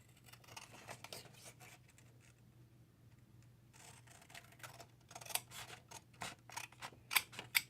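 Scissors trim stamped craft paper at a table, producing faint snipping, then a livelier run of crisp, close cuts toward the end.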